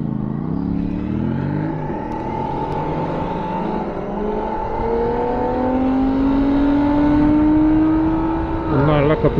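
A revving engine roars steadily, its pitch climbing and falling through gear changes, loud and close.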